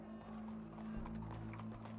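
Horse hooves clip-clop steadily in Red Dead Redemption II, a soft running patter over a constant low hum and game ambience, with no distinct talk.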